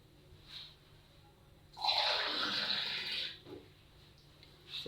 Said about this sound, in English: It's a bit thick, so I'm adding a little, just a little water.